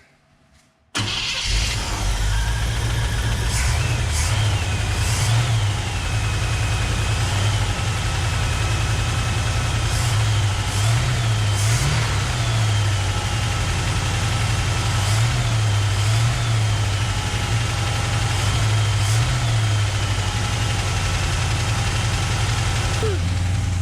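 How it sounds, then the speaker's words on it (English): The small-block V8 of a 1966 Chevrolet C10 truck with an exhaust leak idles steadily and loudly for the whole stretch, with a low rhythmic chuffing pulse and occasional higher squeaks over the rumble. "Well, I definitely have an exhaust leak, but it's running."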